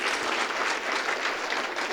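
Audience in a seminar session clapping together in a dense, even burst of applause, moderately loud and unbroken for two seconds.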